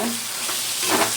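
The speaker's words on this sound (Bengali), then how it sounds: "দিয়ে এবার আবারও আমি নাড়ব।" Shrimp curry in a pan gives a short burst of loud, dense sizzling with a couple of stirring swishes near the end, close up and brief, without any voices.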